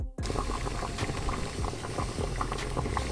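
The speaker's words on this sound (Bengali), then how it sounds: "এই দুটো মশলাই এখন একসাথে কষানো হবে" Spices and coriander leaves sautéed together in a pan for a katla fish dish, heard as a dense, steady bubbling sizzle with small pops throughout, close and continuous with no one talking.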